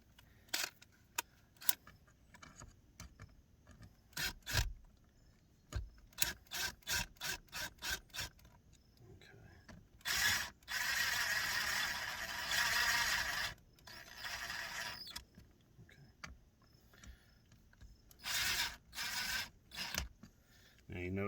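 Power driver eased in to run screws into the trim bezel of a 2004 Dodge Ram 1500 truck seat, heard as a sustained whirring burst midway among scattered clicks, rubbing and handling noises, with no talk.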